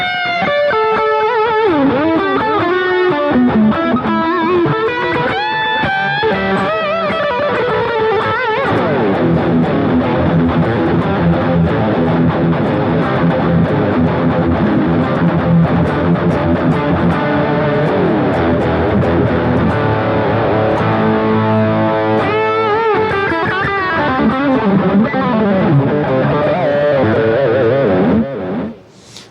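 Distorted electric guitar plays continuously and loudly through a Laney IRT Pulse with cabinet emulation, chords and melodic runs ringing with a thick amplified tone, no voices.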